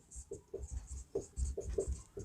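Chalk or pen tapping and scratching as a formula for the surface area of a sphere is written by hand in a maths lesson, a series of short strokes and taps, close and moderately soft, with no talk.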